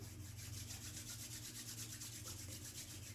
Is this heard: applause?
no